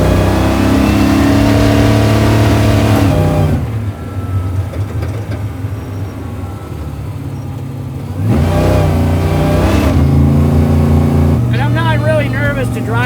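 A 900-horsepower supercharged Jeep Willys Ultra 4 off-road truck revs hard in loud bursts, the engine dropping to a rough lower rumble during a U-turn before roaring up again, close and powerful.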